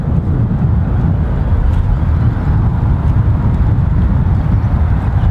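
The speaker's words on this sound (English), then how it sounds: "the wind has come up on the JH range again" Strong wind blows across the microphone at an outdoor shooting range, a loud, continuous low rumble with gusty buffeting throughout and no speech.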